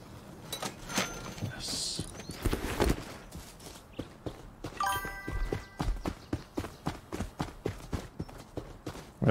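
Hooves clip-clop in a steady walking rhythm, close and distinct, from horses in the video game Rust, with other game sounds and occasional chimes mixed in.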